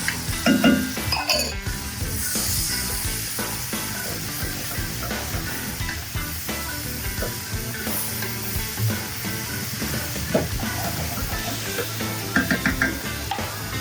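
Onions, celery and garlic fry with bacon in oil, giving a continuous close sizzle with repeated stirring scrapes and occasional clinks of a utensil against the pan, no talking.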